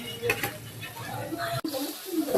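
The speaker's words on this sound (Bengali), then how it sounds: "মাছের ডিম দিয়ে আলু ভাজি করব।" Potatoes frying with fish roe in a pan: a soft, low sizzle with stirring scrapes that cuts out abruptly for an instant before resuming.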